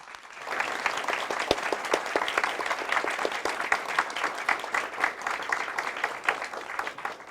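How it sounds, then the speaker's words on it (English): An audience at a NATO Secretary General event at the CHEY Institute in Seoul breaks into steady, sustained applause, a dense even patter of many hands clapping that continues for several seconds. "please give a warm round of applause to Secretary General Stoltenberg"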